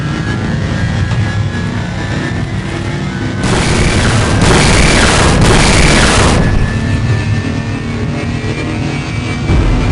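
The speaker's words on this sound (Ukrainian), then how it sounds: "ми спричиняємо вибух, під яким ми мали померти" A loud burst of explosive noise erupts mid-clip over a steady rumbling background in the video game Half-Life, roaring for a few seconds before fading back to the low hum.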